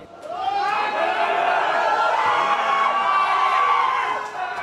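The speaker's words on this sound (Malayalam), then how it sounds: "വിരാട് കോഹ്ലിയെ കണ്ടതോടെ ആരാധക ആവേശം ആർപ്പുവിളിയായി" Fans shout and cheer as cricketer Virat Kohli arrives in Thiruvananthapuram. The crowd roars loudly and steadily for several seconds, with high-pitched shrieks and whoops among the voices.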